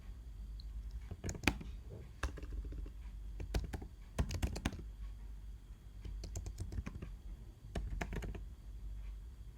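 Bursts of quick clicking keystrokes on a computer keyboard come in short clusters separated by pauses, close and fairly quiet, with no talk.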